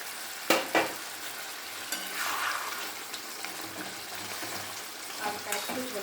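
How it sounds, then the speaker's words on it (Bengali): Fish pieces dropped one by one into a boiling home-style fish curry, a soft, steady simmering sizzle with a couple of sharp splashing clunks at the start, quiet and close. "এবার আমি মাছগুলো ছেড়ে দেবো"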